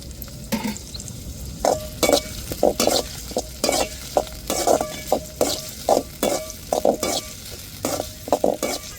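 Tomatoes sizzling in a pan while a utensil stirs them in quick, repeated scraping strokes, roughly fifteen bursts over a steady background sizzle, close and clear.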